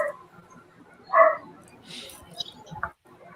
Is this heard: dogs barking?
yes